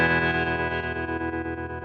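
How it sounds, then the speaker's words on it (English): A sustained electric guitar tone through a Fender amp model in AmpliTube 5 swells and wavers with a pulsing vibrato, washed in a lush spring reverb and slight grit, with no voices. "this amp features a great spring reverb and vibro circuit"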